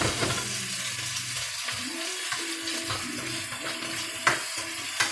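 Cantonese-style noodles stir-fried with garlic and ginger sizzle steadily in a hot pan, with scraping stirs and tossing clatter and a couple of sharper utensil knocks near the end, no talking.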